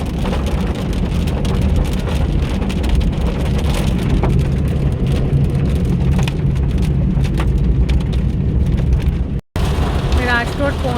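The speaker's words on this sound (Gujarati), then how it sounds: "ધોધમાર વરસાદ છે અને વીજળી છે" Heavy monsoon rain with lightning pounds a car driving from Rajkot toward Dwarka, a loud, steady, dense roar throughout that cuts out briefly near the end.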